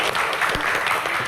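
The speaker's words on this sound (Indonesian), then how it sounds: "Tepuk tangan untuk Vicky Prasetyo." A television talk-show studio audience breaks into a short burst of applause, a dense patter of hand claps heard close and fairly loud.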